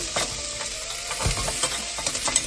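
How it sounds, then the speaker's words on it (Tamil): Crab goes into a hot pan with onion, dried chillies and fenugreek and sizzles steadily, with scattered scraping stir clicks and bumps over the frying hiss, no talking. "இப்போ நாங்கள் என்ன செய்ய போகிறோம்னா நண்டை போட போகிறோம்"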